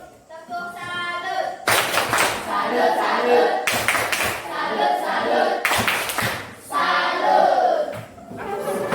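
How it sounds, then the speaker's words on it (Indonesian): Junior high school students in a maths class clap for a classmate in several loud, close bursts of brisk group clapping. Short pauses separate the bursts, and a teacher's voice is heard before the first one. "Tepuk tangan untuk temanmu di sana"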